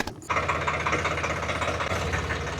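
A Sonalika 735 Samrat tractor engine runs steadily and loudly close by, a low throbbing drone that starts after a brief quiet moment and holds without a break, with no voices.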